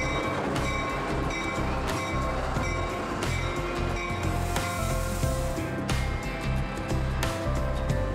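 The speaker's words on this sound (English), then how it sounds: "This is actually our first time being on the train" A passenger train bound for Aguas Calientes, Peru, heard from inside the carriage: a steady low rumble with rhythmic wheel clatter and faint squeals, continuous throughout without talk.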